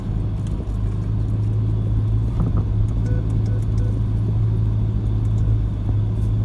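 A 4x4 on a washed-out hill track near Jamieson, climbing slowly and steadily in second with occasional wheel spin, its steady engine rumble and drone loud and close throughout, with no one talking.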